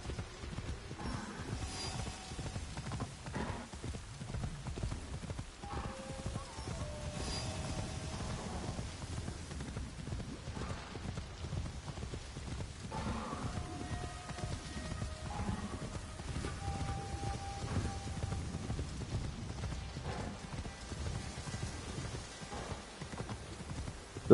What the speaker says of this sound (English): This is what I named my horse.